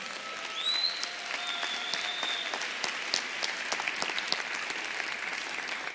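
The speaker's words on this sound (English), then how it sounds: "give them a hand clap." Church congregation applauding together during a service, steady dense clapping that fills the room, fairly distant and even, with a faint voice or tone briefly audible over it.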